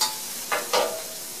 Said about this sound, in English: So the trout is going to cook fast,